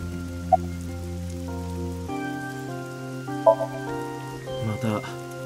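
Rain falls in the video game AI: The Somnium Files, a steady patter running beneath sustained, layered musical tones, with a few brief sharp sounds along the way.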